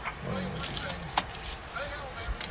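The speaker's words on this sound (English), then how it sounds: "He just threw his keys out." A brief metallic jingle of car keys thrown out of a car window lands once with a sharp clatter, set against steady road and engine noise with voices nearby.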